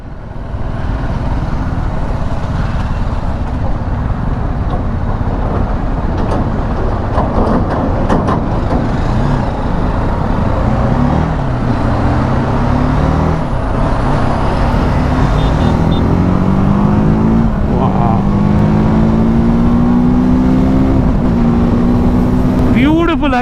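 TVS Apache RTR 310 motorcycle accelerating, heard as a loud, steady engine roar with wind rush and engine pitch climbing toward the end, someone talking over it throughout.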